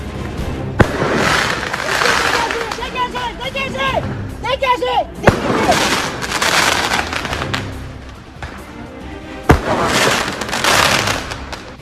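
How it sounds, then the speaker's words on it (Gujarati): Firecrackers thrown by protesters at police during street clashes in Paris, heard as sharp bangs at about 1, 5 and 9.5 seconds amid a dense crowd roar, with shouting and voices throughout. "પ્રદર્શનકારીઓએ પોલીસ પર ફટાકડાથી હુમલો કર્યો."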